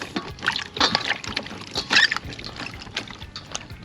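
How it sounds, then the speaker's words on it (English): Honey gold and sunburst potatoes being washed in water outdoors for a seafood boil, close sloshing and splashing with trickles, irregular bursts, no talk. "we're just gonna wash these off"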